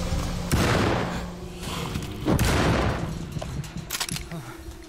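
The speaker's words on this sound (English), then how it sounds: "I shot it twice" Gunshots fired at a creature in the Alone in the Dark game, two loud broadband blasts spaced about two seconds apart, each with a ringing tail, followed by a few smaller impacts and game sounds.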